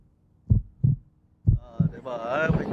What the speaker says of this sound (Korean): 카운트다운이 시작되자 요동치는 심장박동은 카메라에 고스란히 전달됩니다